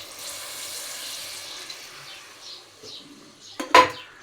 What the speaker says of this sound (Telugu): అలానే ఇందులో కూరకు సరిపడా వాటర్ వేసుకుందాం